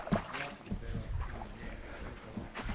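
Toyota Prado wading through a shallow bush creek crossing, with splashing and churning water around the wheels over a low engine rumble, steady throughout with a brief voice near the start.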